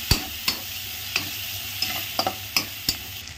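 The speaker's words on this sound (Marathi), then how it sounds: "मस्त भाजून घ्यायचं" Okra (bhindi) stirred with homemade masala in a pan, a steady frying hiss broken by sharp scrapes and clicks of the spoon against the metal, roughly every half second, close and alone with no voices.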